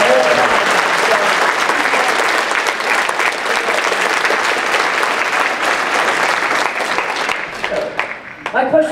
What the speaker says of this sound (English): can we get a round of applause for this runner